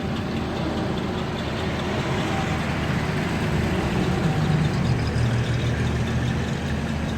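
A vintage Hudson car rolls onto the show field at an AACA Fall Nationals meet, its engine a steady low rumble that stays fairly loud and even throughout with no talk.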